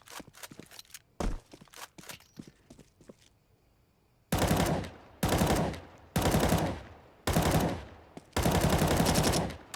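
M4 rifle fired in Counter-Strike 2 in five loud, evenly spaced bursts of rapid automatic fire, following a stretch of quieter clicks, footsteps and handling noise.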